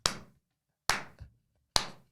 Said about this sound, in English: Like slow hand clap.